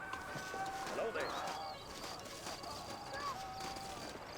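Horse hooves clip-clop in Red Dead Redemption, a steady soft patter under a western game scene, with talking voices and background tones throughout.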